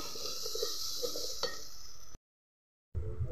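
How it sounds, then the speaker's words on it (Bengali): Figs are stirred into a spice masala in a hot pan: a steady close sizzle with a sharp scrape, then a brief cut to silence before the frying resumes. "এবার ডুমুরগুলো দিয়ে দেব। ভালো করে এবার মশলার সাথে মিশিয়ে নেব।"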